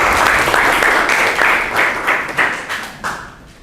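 A classroom gives Adinda a round of applause: a dense, loud burst of many hands clapping at once, with no voices over it, thinning slightly toward the end.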